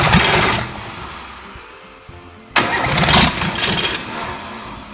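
Car engine cranked with a jumper cable on the starter motor and a small wire to the solenoid, giving two bursts of loud, fast whirring cranking separated by a short pause.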